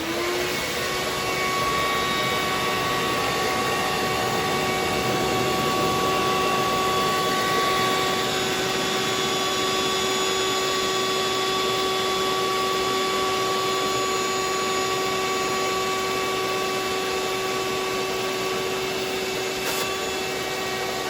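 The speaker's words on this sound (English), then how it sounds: "I'm going to use my shop vac with a piece of pantyhose in the end to catch all this excess grass" A shop vac with pantyhose over the nozzle sucks up loose static grass, a loud steady motor roar with a constant whine running unbroken throughout, no talking.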